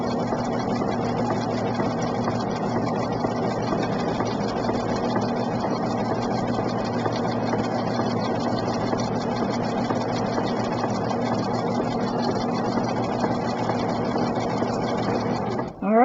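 A sewing machine stitching a fitted face mask with a universal needle, running in a steady, continuous mechanical whir alone for the full stretch before cutting off abruptly.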